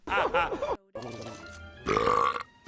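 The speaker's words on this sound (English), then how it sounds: "Why was the burping soda even in the kitchen?" A long, exaggerated cartoon burp from a character who drank burping soda in Jimmy Neutron: Boy Genius, loud and gurgling in several drawn-out bursts with a short gap between them.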